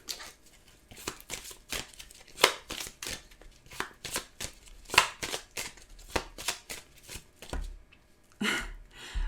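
Tarot cards shuffled and drawn by hand at a table, a string of sharp riffling flicks and papery slaps in uneven bursts, close and fairly quiet, with a short pause before a final few rustles.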